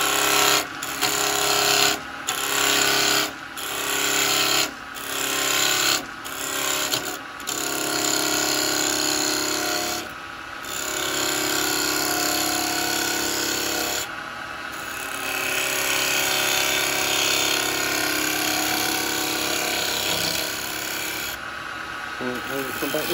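A wooden bowl spins on a lathe while carbide chisels cut it, giving a loud, continuous scraping roar broken by repeated short pauses as the tool lifts away, with someone talking over it.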